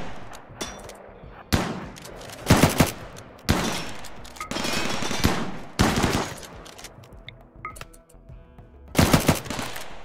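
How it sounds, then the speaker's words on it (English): Gunfire crackles in a modded colony-simulation battle, with bursts of automatic fire and single loud shots in irregular clusters. Louder volleys are separated by brief quieter gaps. "Rigoro shooting Georgette, but problem with Georgette is that she's got a low shield"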